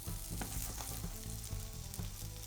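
Carrots frying in sesame oil in a hot pan, a steady close sizzle with small crackles and light stirring throughout.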